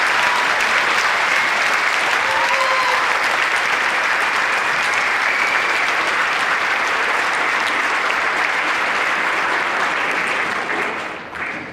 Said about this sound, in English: So how about one special round of applause for our great kids who have our first class.